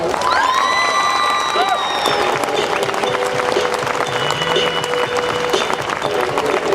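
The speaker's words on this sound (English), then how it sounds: "Let's give them another round of applause." A rodeo crowd at the Wyoming State Fair applauds and cheers Miss Rodeo Wyoming pageant contestants, sustained clapping with whoops and rising whistle-like shouts early on, loud and continuous.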